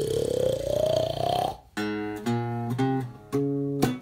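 A storyteller's voice imitates a snore, a few drawn-out, rhythmic nasal rasps following a rising tone, close and moderately loud.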